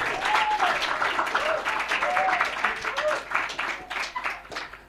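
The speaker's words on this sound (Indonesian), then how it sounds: "tepuk tangan untuk Asrama Sunan Kudus" A crowd applauds with dense, sustained clapping that tapers slightly toward the end, while a voice speaks over it.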